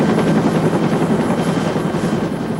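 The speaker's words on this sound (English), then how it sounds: "The helicopter came in." A rescue helicopter arrives to fly an injured person to a trauma center, its loud, steady rotor thump and engine whine holding close and constant throughout, with no talking.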